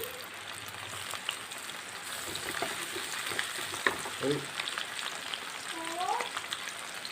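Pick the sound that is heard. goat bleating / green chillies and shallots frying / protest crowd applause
green chillies and shallots frying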